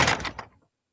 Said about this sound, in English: It's the sound of a door shutting.